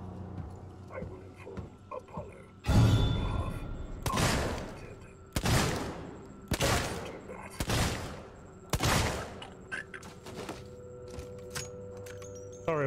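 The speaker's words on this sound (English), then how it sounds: "I've got a revolver. If I get some nice headshots" Revolver fire in the survival horror game Alien: Isolation: about six loud, sharp shots spaced roughly a second apart, each with a ringing tail, over a low rumbling ambience with no talking.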